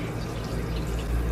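Tap water running steadily into a sink or tub while a long-coated Shih Tzu is bathed, a continuous close splashing hiss with no talk.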